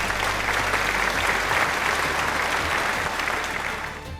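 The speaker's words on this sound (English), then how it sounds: "Let's give one more round of applause for our regional directors." An audience at a pageant coronation night gives a sustained round of applause, dense clapping from a large crowd filling the whole stretch and easing slightly at the end.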